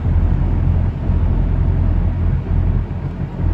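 Opel Omega B with a 2.0 petrol engine cruising in fifth gear at about 2000 rpm and 70 to 75 km/h, heard from inside as a steady low engine drone mixed with road rumble, continuous and fairly loud.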